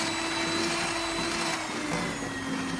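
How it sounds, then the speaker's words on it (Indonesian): An electric hand mixer beats almond cake batter ingredients, a steady high whine with a constant buzzing drone, close and fairly loud with no talk. "Mixer kedua bahan ini sampai mengembang, lembut dan berwarna pucat."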